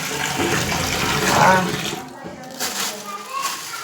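Water runs steadily from a tap while fish are washed, a loud continuous splashing flow that fades after a couple of seconds, with voices talking in the background.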